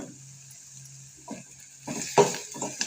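Grated carrot with sautéed onion is stirred in a pan, a soft low sizzle under a few scraping spoon strokes that grow busier and louder toward the end.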